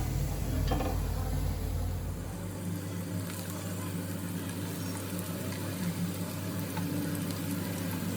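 Coriander bhaji fritters deep frying in hot oil give a steady, dense bubbling sizzle that stays even throughout, with a low hum fading out early on.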